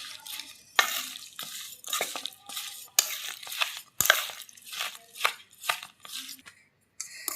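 A mango and jaggery pickle being stirred in a pot, with irregular scraping and clinking strokes separated by short gaps, close and alone.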